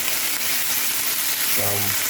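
Steady close-up crackle and hiss of bacon frying in a pan, with a brief low hum near the end.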